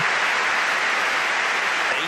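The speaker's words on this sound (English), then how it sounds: "And listen to that crowd." A large table tennis arena crowd of several thousand at a world championship match applauds steadily, a dense, even wash of clapping heard without a break.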